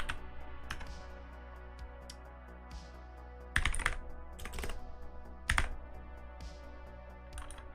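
Steady clicking of a computer keyboard close by, a continuous patter of keystrokes broken by a few heavier, louder key presses, with a low hum underneath and no speech.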